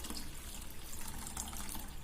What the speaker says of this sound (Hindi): बाकी के बचे हुए बाजरे को हम एक बार और साफ पानी से धो के और एक छलनी में निकाल लेंगे